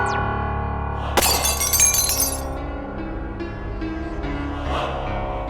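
A glass mannequin shatters during a light and sound show at Amrapali, a sudden loud crash of breaking glass with bright tinkling shards trailing off over sustained dramatic music.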